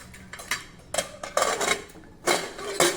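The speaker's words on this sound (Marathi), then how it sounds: "झाकण पुन्हा बंद करू" A lid set back down on a pressure cooker of coconut rice on a gas stove, giving a few sharp metallic clinks and clatters spread through the moment, fairly close.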